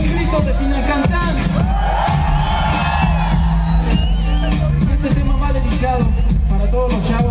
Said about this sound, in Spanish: un grito de Sinacantán